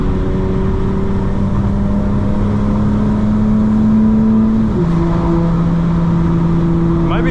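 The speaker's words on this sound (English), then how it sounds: "Put it in all-wheel drive with the burbles on." Steady engine drone from a 2025 BMW M4 Competition xDrive cruising at night, with sustained harmonic tones that drop in pitch mid-way as if shifting gears, loud and continuous throughout.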